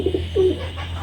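Soft, close coos of pigeons nesting in a basket, a couple of short notes followed by a longer rolling coo, over a steady low hum.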